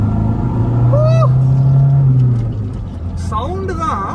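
A Hyundai Verna's engine hums steadily while driving, a low droning rumble that swells then eases, with a voice talking over it near the start and end.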